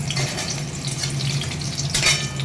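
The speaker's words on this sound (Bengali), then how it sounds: "ভেজে নিই।" Jackfruit pieces frying in a pan give a steady, close sizzle with light stirring scrapes and a brief louder crackle toward the end; no voices.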